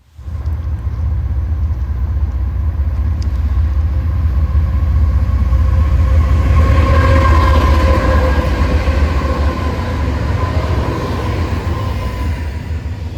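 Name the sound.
Union Pacific eastbound intermodal freight train passing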